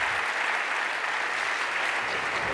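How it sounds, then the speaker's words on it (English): Audience at an evening forum between a Christian and an atheist applauds its two speakers, a steady, dense wash of clapping that holds evenly from start to finish with no voices over it. "let's give our two speakers a warm welcome and round of applause"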